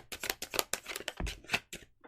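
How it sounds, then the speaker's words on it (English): Crisp flicks and riffles of a tarot deck being shuffled up close, a quick run of papery snaps with brief pauses between. "let me finish shuffling"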